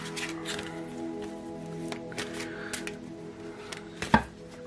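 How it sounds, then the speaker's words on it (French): Deck of large oracle cards being shuffled by hand, soft papery riffles and flicks in short irregular bursts close by, ending with a sharper slap of cards. "Donc, je mélange les cartes."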